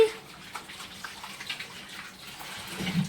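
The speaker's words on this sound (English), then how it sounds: "And I'm going to wash my hands again." A tap runs steadily while hands are washed in a home kitchen during gyro loaf preparation, a soft continuous splashing of water with faint movement.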